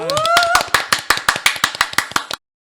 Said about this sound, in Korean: 다시 한번 큰 박수 한번 부탁드리겠습니다